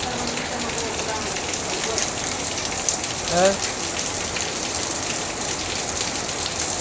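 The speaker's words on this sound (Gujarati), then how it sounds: "અત્યારે વરસાદ બંધ નથી, એકદમ જોરદાર વરસાદ ચાલુ છે" Heavy rain falls steadily on surfaces in Surat, a dense, continuous hiss of drops close by with one brief louder splash partway through; a faint voice is heard in the background.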